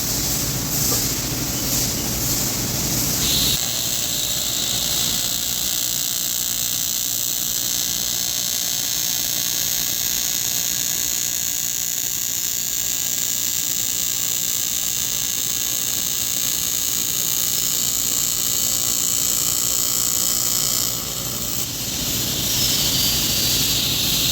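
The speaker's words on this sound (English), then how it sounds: "I'm going to demonstrate for you by welding this weld on purpose too hot." Aluminum being TIG welded deliberately too hot, a loud, steady, continuous buzzing hiss that holds for the whole stretch with a brief change near the start and end, with no talk.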